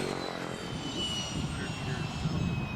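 Aircraft engines at a Tanzanian airport used by scheduled flights, a steady droning roar with a whining tone, fairly close and sustained throughout.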